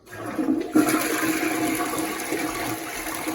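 A toilet in a newly plumbed bathroom flushes close by, a loud rushing swirl of water that surges at the start and then keeps draining steadily, with no voices over it.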